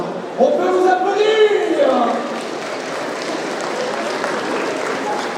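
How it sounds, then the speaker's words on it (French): Applause from the audience at a cosplay contest in Laval rises under an announcer's speech and then carries on as a steady, moderately loud wash of clapping and crowd noise. "On peut vous applaudir!"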